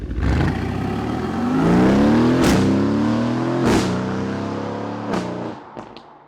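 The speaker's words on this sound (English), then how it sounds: "this V8 right here gives it so much soul and emotion. Just wait till you hear it." Aston Martin V8 supercar engine revving up, a loud close rising roar with climbing harmonic pitch, several sharp gearshift blips, then settling and fading, no talking.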